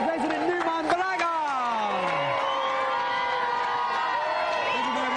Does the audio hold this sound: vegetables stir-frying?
no